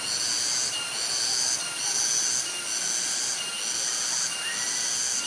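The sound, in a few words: cicadas buzzing near Sedudo waterfall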